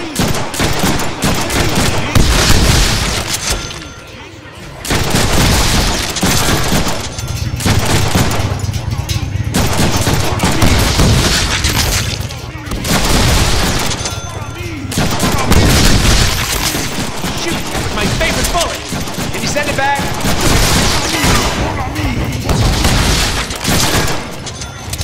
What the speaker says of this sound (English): Think on that while I shoot you.